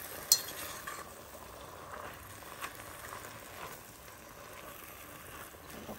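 Soup ingredients stir-fried in a pot sizzle softly and steadily, with light scraping stirs and a sharp clink near the start, faint and close with no talk.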